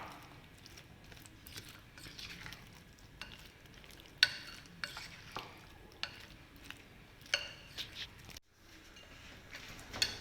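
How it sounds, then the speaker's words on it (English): Baby corn being mixed in batter, faint wet stirring with scattered soft ticks and squishy clicks from a utensil against the bowl, irregular and quiet, close up with no voices. "Mix it till all the baby corns are coated well in the batter."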